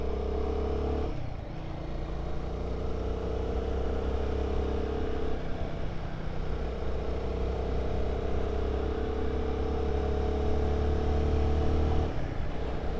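A Guerrilla 450 motorcycle accelerates hard through its gears on a wet road under trees, the engine note climbing and dropping with each shift, steady and close over continuous road and wind rush, with no voices.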